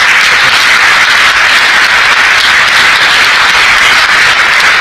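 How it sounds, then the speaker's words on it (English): Audience applause in a hall at a hospitality industry convention award ceremony in Goa, a loud, dense and continuous roar of clapping that holds steady throughout without voices. "Yes, a round of applause for him, please."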